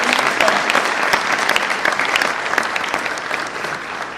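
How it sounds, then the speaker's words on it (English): Graduates at a class of 2016 commencement ceremony applaud their professors, a dense, steady round of clapping from a large crowd that holds strong throughout and eases only slightly near the end. "Fellow graduates, please join me in a round of applause for all our professors."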